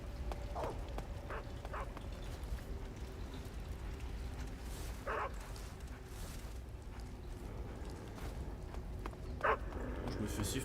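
Dogs chasing the player in the video game Metal Gear Solid 3 give scattered yips, barks and whimpers over the game's background sound, partly under someone talking.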